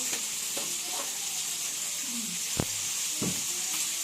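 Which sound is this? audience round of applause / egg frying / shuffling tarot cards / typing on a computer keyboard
egg frying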